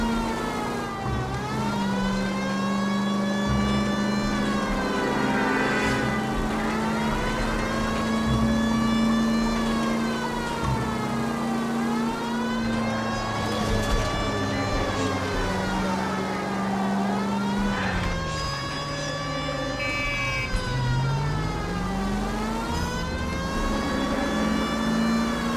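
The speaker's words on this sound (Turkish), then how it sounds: "Korna değil, siren oluyor ama." A police car siren from the video game L.A. Noire wails loud and close in long, repeated rising and falling sweeps. An engine rumbles steadily underneath the siren.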